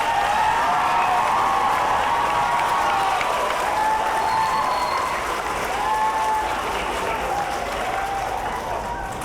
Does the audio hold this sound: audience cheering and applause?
yes